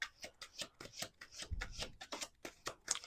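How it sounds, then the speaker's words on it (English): Tarot cards being shuffled by hand in a quiet room, a string of soft riffling and tapping bursts coming in quick irregular pulses, close and faint, with no voice. "We're going to do 2 more shuffles."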